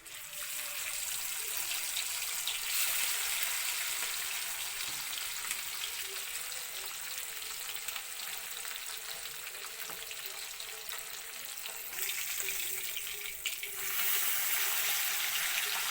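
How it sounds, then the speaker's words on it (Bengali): Turmeric-coated puti fish fry in hot oil in a pan, a steady bright sizzle filling the whole stretch with small shifts in intensity and no talk. "মাছটা ভালো করে কড়কড়া করে ভাজা করবো"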